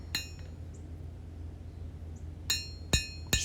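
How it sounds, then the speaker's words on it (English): Hammer planishing a forged high carbon steel blade on an anvil, a few sharp ringing metallic strikes spaced irregularly, one early and three close together at the end, over a faint background hum. "Just planish things out."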